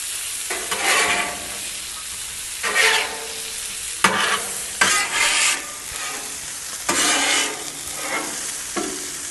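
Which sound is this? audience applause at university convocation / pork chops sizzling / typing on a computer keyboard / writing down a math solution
pork chops sizzling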